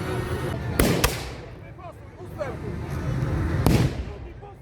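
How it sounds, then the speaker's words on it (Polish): Rifle volleys and cannon fire at a reenactment of the Battle of Olmonty: a few sharp, loud reports, two close together early and another later, ringing out over a constant outdoor murmur with a voice talking beneath. "I widzimy kolejne salwy karabinowe z obu stron."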